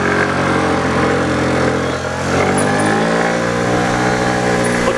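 A motor scooter with a blue plate, ridden through Rotterdam streets, drones steadily close by as its engine pulls and rises in pitch, a continuous buzzing hum that dips briefly and then climbs again as the ride gathers speed.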